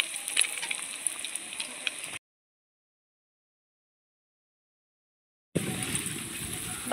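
Vegetable chops made from banana flower frying in hot oil: a thin, steady sizzle and crackle at the start, then several seconds of silence, and the bubbling returns louder near the end.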